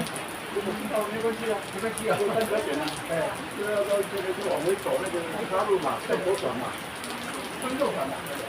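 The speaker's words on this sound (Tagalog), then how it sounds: "Maulan." Steady rain falls on an overcast day while people wait at a counter on an outing, a continuous wash of drops running beneath nearby voices talking throughout.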